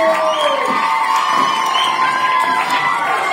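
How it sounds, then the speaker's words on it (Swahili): A crowd of children cheers and shouts for a child acting as a doctor in a classroom, a loud continuous wash of high excited voices up close with little sign of clapping. "Makofi ya daktari wetu wa ubongo"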